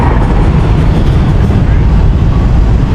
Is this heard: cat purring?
no